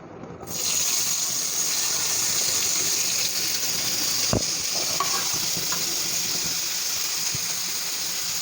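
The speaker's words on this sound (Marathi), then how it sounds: "मी एक चमचा आणखीन तेल घालणार आहे आणि टोमॅटो देखील ह्या ठिकाणी मी भाजून घेणार आहे" Tomatoes frying in oil in a pan, a continuous moderate sizzle starting abruptly and holding steady, with a single knock of a utensil partway through.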